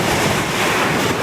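High-tide waves washing onto a beach in Batangas make a loud, continuous rushing surf that stays close and steady throughout.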